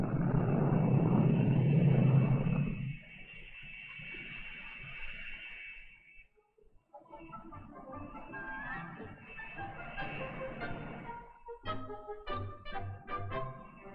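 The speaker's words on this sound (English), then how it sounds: "While some jets continue to fly," Jet aircraft operating from an aircraft carrier, a loud broadband engine roar for the first few seconds that fades into lower, busier shipboard and music-like sound with a brief lull partway through.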